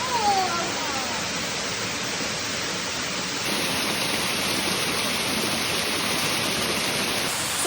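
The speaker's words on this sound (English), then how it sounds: "this waterfall, it does change depending on the weather. We have gotten a lot of rain over the last couple of days, so we knew that it would be running really good" Marcus Falls, a hidden waterfall in Daniel Boone National Forest swollen after days of rain, pours with a steady, dense broadband rush heard up close and unbroken throughout.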